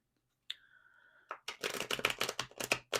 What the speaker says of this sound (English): As I'm shuffling the tarot